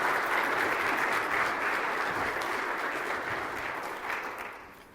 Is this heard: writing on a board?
no